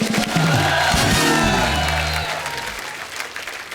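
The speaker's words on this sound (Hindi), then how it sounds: "राहत साहब के लिए एक बार खुल के तालियां हो जाएं" Studio audience at a televised comedy show applauding and cheering a poet after a shayari recitation, a loud swell of clapping and whoops under a sustained musical chord that fades out.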